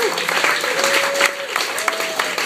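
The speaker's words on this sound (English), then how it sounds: "Give a nice round of applause." Audience applause following a stand-up comedy set, a dense, steady patter of many hands clapping that fills the room for the whole stretch, with a faint voice or tone drifting beneath it.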